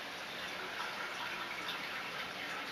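Beer wort draining from a twisted brew-in-a-bag grain bag during a homebrew brew day, a steady, continuous trickling wash of liquid, close and moderately loud, with no voices.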